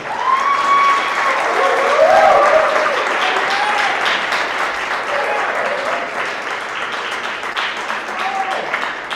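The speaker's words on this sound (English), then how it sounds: "A nice big round of applause for our recipients today." A middle school award assembly audience claps and cheers for recipients, sustained crowd applause with excited voices and whoops rising above the clapping.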